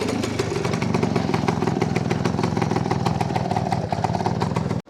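A 1983 Royal Enfield Mini Bullet 200cc two-stroke motorcycle engine runs loud and close, a steady rapid rattling putter that holds evenly throughout before cutting off abruptly.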